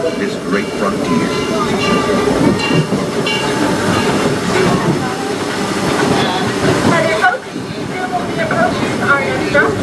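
Disneyland Railroad steam train in Anaheim, California, rolling with a steady clatter and rumble of wheels and cars, hiss and creaks layered over it, loud and close, with voices faintly beneath.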